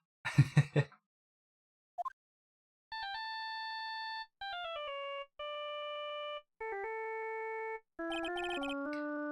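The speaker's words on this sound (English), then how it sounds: "I bet it was this ringtone that caused it." Phone ringtone in the courtroom game Phoenix Wright: Justice For All, a series of clean synthetic melodic tones stepping between pitches over several seconds, preceded by a brief noisy burst and a short chirp.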